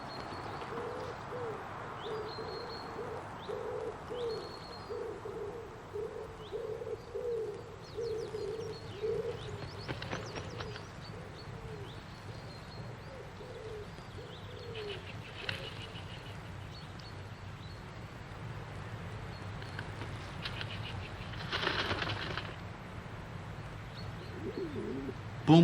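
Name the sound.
wild pigeons cooing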